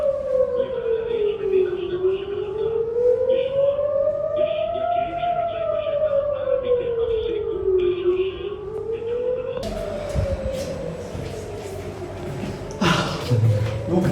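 Air raid siren during the Israel-Gaza conflict, wailing in slow rising and falling sweeps, loud and sustained, then continuing under a noisier outdoor scene with voices toward the end.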